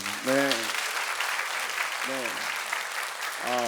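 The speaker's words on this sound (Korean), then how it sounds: "박수 한번 주십시오." A church congregation applauds a youth choir at an early Saturday morning prayer service. The dense, even clapping carries on throughout while a voice speaks over it at intervals.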